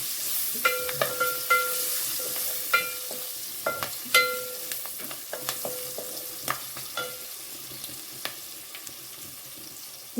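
Green chilies frying in a hot pan for a vegetable dish made without onion, garlic or turmeric, a close steady sizzle broken by repeated sharp scrapes and clacks of a spoon stirring.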